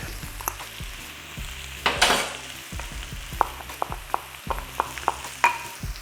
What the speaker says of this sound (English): I'll add the rest of my garlic.